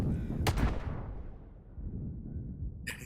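An RPG blast in the Vietnam-era shooter game Hell Let Loose goes off as a single loud, close boom, then a low rumbling tail fades over a couple of seconds.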